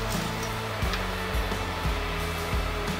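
A sewing machine stitches a skirt belt onto the raw edge of a circle skirt lehenga, its motor running in a steady, close drone with rhythmic needle thumps repeating about twice a second and no talking.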